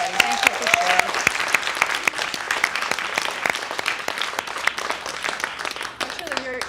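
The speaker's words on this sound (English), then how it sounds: "Let's give them a very big, warm round of applause, everybody." Sustained applause from an audience, dense clapping throughout with a voice briefly heard at the start and end.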